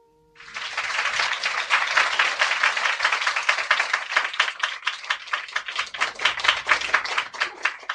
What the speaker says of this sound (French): Et vous applaudissez, admirez son effort.